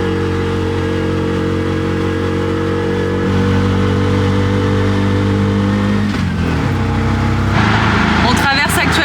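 A tuk-tuk engine drones steadily and loud while driving a winding mountain road among tea plantations in Sri Lanka, its pitch holding then dropping near the end as the revs shift.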